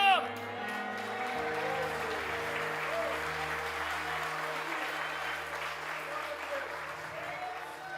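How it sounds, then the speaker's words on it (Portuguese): A church congregation at an Assembleia de Deus service applauding, a sustained wash of clapping across the room with voices and music mixed underneath, steady throughout. "Aplauda o Senhor!"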